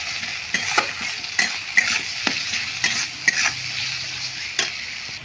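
Spice paste for a Bengali fulai fish jhal curry sizzling steadily in a pan, with repeated scraping strokes of a spoon or spatula as it is stirred and fried.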